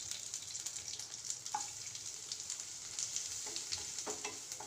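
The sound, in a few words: dried chillies and curry leaves sautéing in a pan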